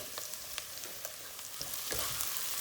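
Red pepper fries and sizzles in a pan while being stirred, a steady crackling hiss with scattered pops and scraping, growing slightly louder toward the end.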